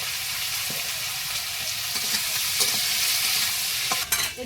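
Black cumin seeds and green chillies fry in hot oil with a loud, steady close-up sizzle, broken by a few sharp clinks and scrapes of stirring near the end; no one speaks.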